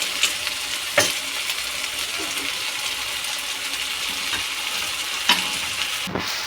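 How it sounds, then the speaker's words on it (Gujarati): Cooked rice for Maggi rice is stirred in a frying pan, a steady sizzle running throughout with scraping spoon strokes near 1, 4.3 and 5.3 seconds and a sharper clatter near the end. "આપણે બધા ભાત અહીંયા નાખી દીધા છે અને આપણે હલાવશું."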